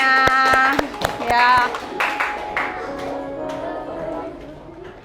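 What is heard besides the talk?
classroom applause, clapping hands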